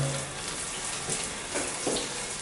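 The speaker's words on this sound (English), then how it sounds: "We'll just turn on the shower, the hot water for the shower" Hot water from a shower running into a bathtub, a continuous hiss of spray with splashing on the tub surface, steady and close, with no voices.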